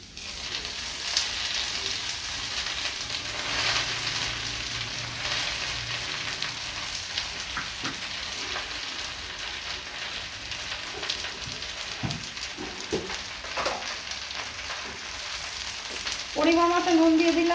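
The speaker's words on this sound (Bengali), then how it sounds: "এটা ভাজা হয়ে গেছে, এবার কচু শাকটা দিয়ে দেবো।" Taro greens fry in a pan, making a continuous crackling sizzle with scraping and stirring knocks. A short voice-like sound rises near the end.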